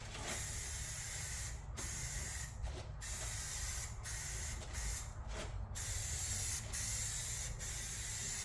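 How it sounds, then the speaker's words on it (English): A Rust-Oleum spray can sprays primer during a Squarebody Chevy paint job. The hiss is steady, close and loud, broken by a few brief pauses between passes. "always pre-shake all your cans before you start spraying"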